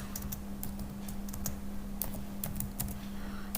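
Rapid clicking of a computer keyboard as someone types, close and steady with irregular bursts of keystrokes over a low electrical hum, no talk.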